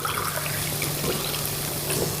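Water pours steadily from a cup into a cooking pan for a corn flour dish, a continuous close splashing rush with no voices.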